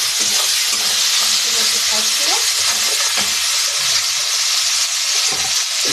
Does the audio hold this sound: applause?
no